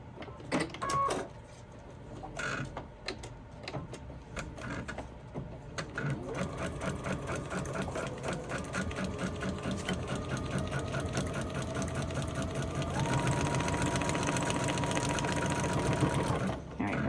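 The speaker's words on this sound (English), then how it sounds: "I'm just going to sew this down." Sewing machine stitching down a temperature quilt, a few hesitant starts and stops at first, then a long steady rhythmic run that picks up speed and grows louder, close and clear with no voices over it.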